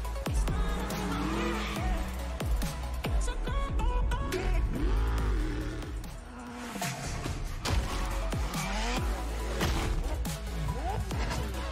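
A McLaren car driving in a Lego racing game expansion, a steady engine drone with rising and falling revs and pass-bys, continuous and moderately loud with faint talk beneath.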